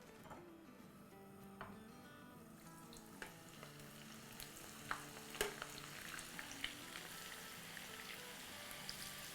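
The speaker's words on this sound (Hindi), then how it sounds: "तो चले अब हम अपनी फ्राइज़ दोबारा इसमें डालते हैं।" French fries dropped back into very hot oil for a second fry give a steady, faint sizzle full of crackles and small pops that grow slightly busier as it goes on.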